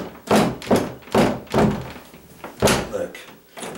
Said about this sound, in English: see this bathroom door was driving me batty too